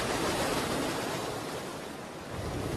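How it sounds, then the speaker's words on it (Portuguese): Huge ocean waves breaking on a beach at low tide, a continuous loud roaring wash of surf with no gaps, swelling again toward the end. "Na maré baixa, ondas enormes quebram na praia."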